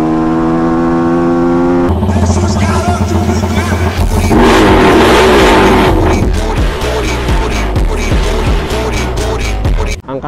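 Rusi Flash 150X and Suzuki Raider FI motorcycles ride hard together, engines droning loud and steady with rising revs and gear changes, wind buffeting over the motor noise throughout.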